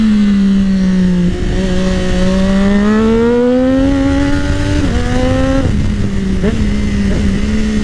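A Triumph Daytona 675R motorcycle's engine revs loud and close, pitch climbing steadily then dipping with a few sharp blips and gear changes, continuous throughout.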